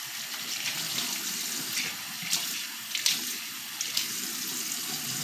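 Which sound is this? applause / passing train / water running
water running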